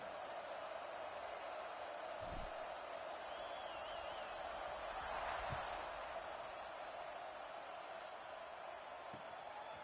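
A stadium crowd at an NCAA football game before a kickoff, a steady distant roar that swells slightly midway, with a few faint thumps.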